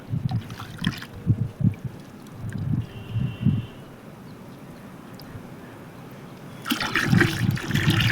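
Water splashes and pours in short bursts into a spray tank, goes quiet for a few seconds, then rushes in again with a strong, steady gush.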